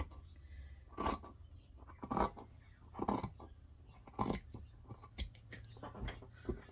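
Scissors cutting fabric for a slow-stitch collage, a series of quiet close snips spaced about a second apart over a faint background.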